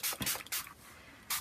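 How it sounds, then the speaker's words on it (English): Ink spray hisses onto an art journal page in three quick, faint spritzes, two close together and one after a short gap. "And I'm just going to spray some on"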